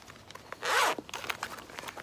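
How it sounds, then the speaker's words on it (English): The zipper on a compartment of a Mustad dry bag is pulled in one quick, close rasp. Small handling clicks and rustles follow. "The zipper here is for this compartment right here."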